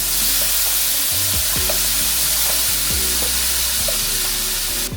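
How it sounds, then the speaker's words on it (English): Two pounds of shrimp sautéing with butter and minced garlic in a hot pan, a loud continuous sizzle with low rhythmic knocks from stirring running throughout. "I'll add 3 tablespoons of butter to a hot pan and 1 tablespoon of minced garlic. Add 2 pounds of shrimp."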